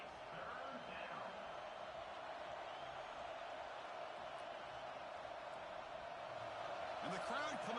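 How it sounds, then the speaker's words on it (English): A football stadium crowd roars steadily on a third down in the red zone, a broad continuous wall of cheering that swells slightly near the end. "And the crowd coming to life here,"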